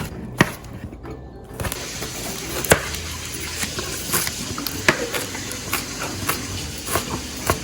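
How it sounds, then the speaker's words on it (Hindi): A knife slices tomatoes into small pieces on a board for raita, giving steady, irregular chopping taps close by over a background hiss. "सबसे पहले टमाटर हम छोटे छोटे स्लाइस कर लेंगे।"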